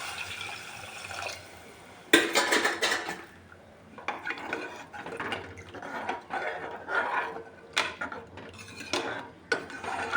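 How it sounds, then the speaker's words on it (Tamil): Water being poured into a pot of tomato biryani after the tomatoes have softened, with clattering pot and utensil sounds and splashing bursts across the clip, fairly close and moderately loud, with no talking. "இப்போ ரெண்டு கிளாஸ் தண்ணி நான் ஊற்றுறேன்"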